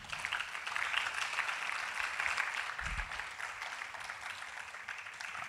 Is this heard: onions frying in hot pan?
no